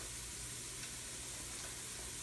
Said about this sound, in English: Kind of get this bacon a little bit, not necessarily crunchy, but just kind of render some fat out of it.